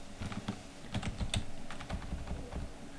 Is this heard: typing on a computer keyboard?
yes